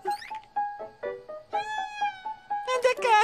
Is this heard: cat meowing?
yes